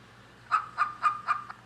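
A toddler's iPhone app plays a chicken sound: four distinct clucks in a quick, fairly even rhythm, clear and moderately loud against a quiet room.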